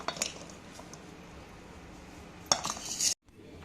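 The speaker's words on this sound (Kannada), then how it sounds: "ಕೊನೆ ಕಟ್ ಮಾಡಿಬಿಟ್ಟು ಈ ಥರ ಕಟ್ ಮಾಡ್ತಾ ಇರಬೇಕು" A knife cuts okra into small pieces on a board, making a few scattered close taps and scrapes in quiet surroundings, then a sudden stop.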